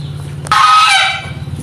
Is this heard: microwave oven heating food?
no